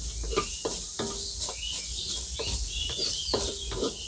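Sliced onions dry-frying in a pan without any oil for an Assamese banana flower dish, giving a steady soft sizzle broken by repeated scraping stir strokes, close and fairly loud, with no one talking.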